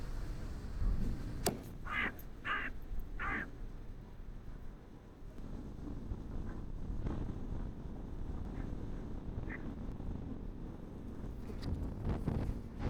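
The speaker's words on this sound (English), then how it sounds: "having a windy day here is obviously not the best" Strong wind on a blustery day in Limassol, Cyprus, buffeting the microphone with a steady low rumble and gusting roar, with a few faint brief sounds in the distance.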